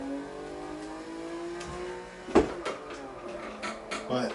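A racing car's engine in a racing video game drones steadily, then blips sharply as it downshifts while cornering, with a brief clunk and uneven revving afterward.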